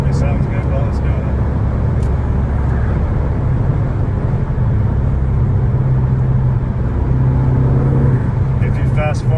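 A 2013 Ford Focus ST3 with front-wheel drive, its engine droning steadily and loudly while driving, with road and wind noise blended in throughout.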